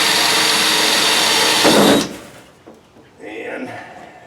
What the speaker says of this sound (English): drill them through the back side here.